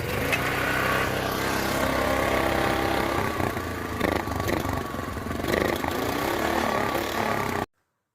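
A small Honda GX140 engine converted to E85 with modified carburetor jets runs steadily at a constant idle-like chug, loud and close, with some clatter, then cuts off abruptly near the end.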